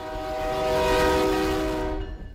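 A train passing through a small rail town, its horn sounding as one long steady multi-tone blast that swells and fades over a low rumble of rail traffic, with no voices.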